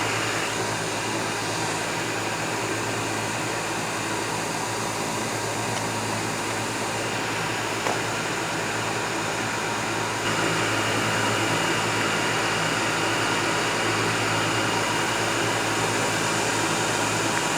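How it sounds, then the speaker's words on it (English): A bee-removal vacuum running steadily beside a brick wall, a loud constant whooshing roar with a slight shift in tone partway through, alone with no talking. "I'm going to just start vacuuming"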